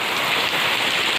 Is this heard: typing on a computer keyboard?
no